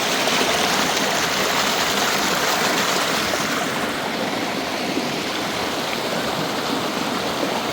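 Water rushing along a stream at Jayanti, a dense, loud, continuous splashing flow heard close by with no break.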